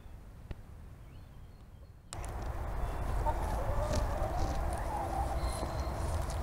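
Chickens cluck in a garden: near-silence gives way to a busy run of soft, overlapping clucks and calls from the hens, moderately close.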